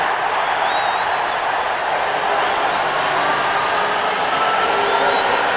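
A hockey arena crowd roars after an Islanders goal against the Leafs in a 1978 Stanley Cup quarterfinal, a dense, sustained wash of cheering that stays loud and steady throughout with no distinct voices.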